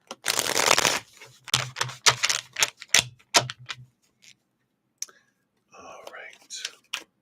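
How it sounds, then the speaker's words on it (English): Tarot reading cards shuffled by hand during a live reading: a rapid riffle burst followed by scattered soft card slaps and flicks, close and crisp, with quiet whispered talk. "Let's shuffle that again."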